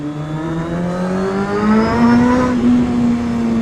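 A motorbike engine revs steadily and loudly, its pitch climbing gradually and then holding high, close by with no talking.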